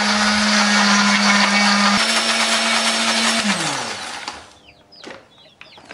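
A blender grinding spices with a little water whirs loudly and steadily for about three and a half seconds, its motor pitch dropping as it winds down, then stops, leaving faint clatter.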